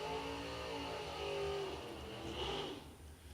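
A Ford Ranger at a drag strip holds a steady, humming engine drone that rises slightly before easing off, moderately loud with no talk.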